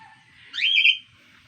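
A pet bird in a home gives a single short, clear chirp at close range. Quiet surrounds it.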